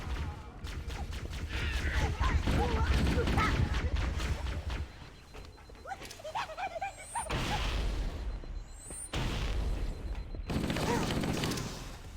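Explosions and bursts of gunfire from a firefight in Halo: Combat Evolved, on the Pillar of Autumn level, with a plasma grenade blast among them; loud, dense and continuous, with whooshing bursts and a brief lull in the middle.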